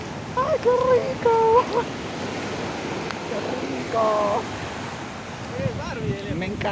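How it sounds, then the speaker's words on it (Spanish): Ocean waves wash onto the beach at Playa Los Pulpos on the Costa Verde, a steady rushing surf with wind noise throughout, while someone speaks excitedly over it. "¡Ay, el agua viene, viene!"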